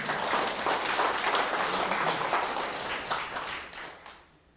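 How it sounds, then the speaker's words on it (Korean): A crowd at a lecture applauds steadily, a dense wash of clapping hands that fades out toward the end. "우리 세종대왕을 위해서 박수 한번 칩시다"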